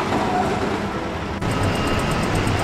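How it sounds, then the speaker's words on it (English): A Melbourne Route 112 tram bound for West Preston crosses Spring Street on a city street, rumbling steadily and loudly nearby with rhythmic rail clatter and faint high whine from the wheels. "Now a Route 112 tram to West Preston crosses over Spring Street."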